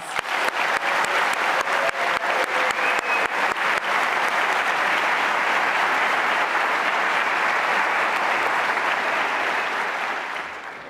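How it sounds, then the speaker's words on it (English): A large audience at a West Point graduation ceremony claps for about eleven seconds, a dense, loud, sustained roar of hands with a few sharp early claps standing out before it tapers at the end. "Please, let's give him a round of applause"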